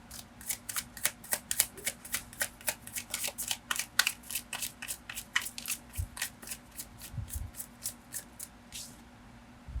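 Tarot cards being shuffled by hand, a quick rhythmic series of crisp riffling flicks close up, about two dozen in a row, with a low hum beneath and no talk.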